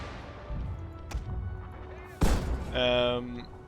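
Black-powder musket line firing in a Prussia war strategy game against French troops, with scattered shots and one loud sharp volley crack around the middle, followed by ringing game effects.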